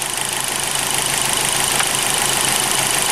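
A car engine idles steadily on a running vehicle while its throttle body coolant bypass is serviced, a constant even hum with faint mechanical ticking held at one level throughout, close to the microphone with no one talking.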